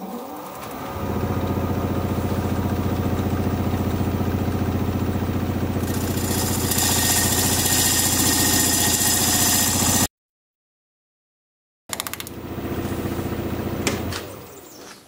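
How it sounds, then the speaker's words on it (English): A wood lathe spins at about 880 rpm as a freshly sharpened 5/8 inch bowl gouge turns a live edge alder bowl. A steady motor drone grows brighter as cutting begins, then a short silent gap, then the whir resumes. "I have a freshly sharpened 5/8 inch bowl gouge, and we'll be turning at about 880."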